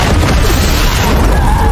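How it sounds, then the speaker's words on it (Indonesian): A police car in a film explodes under mafia gunfire: a loud, dense burst of blast and crashing noise that sustains without a break through the short moment, with no clear speech. "pasukan mafia malah menghujani mobil itu dengan peluru sampai meledak berkeping-keping."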